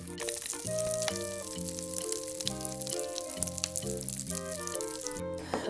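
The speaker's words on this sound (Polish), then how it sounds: "I tam chyba jest ten proszek z Glibi. Ona trzeszczy!" Bath water crackles and fizzes with dissolving Glibbi Knisti bath powder, a steady sizzling crackle heard beneath loud, melodic background music.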